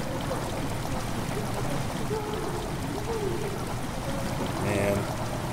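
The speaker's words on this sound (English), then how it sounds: "Water has begun to slowly fill the chamber." Water steadily pours and trickles into a stone chamber in the horror game Amnesia: The Dark Descent, a continuous rushing flow with gurgles, heard under game ambience with faint voice-like tones.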